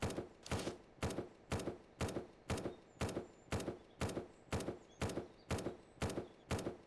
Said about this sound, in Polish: To jest wieżyczka, czy co to strzela?